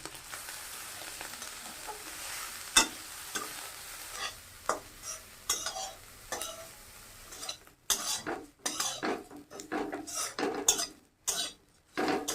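Prawn heads with turmeric, salt and chilli sizzle steadily in a pan while a utensil scrapes and clinks against the metal at irregular intervals, with sharper stirring bursts toward the end.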